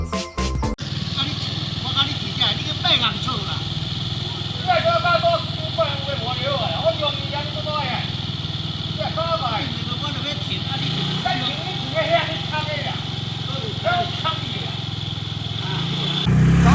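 A moped's small engine idles steadily close by as it is parked on a street in Taiwan, a constant low hum while voices talk over it for much of the stretch.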